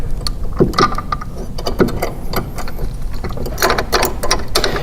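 A bolt being tightened into a channel nut on the mounting arm of a Honda HRR lawn mower, heard as close, uneven metallic clicks and ratcheting rattles with no speech.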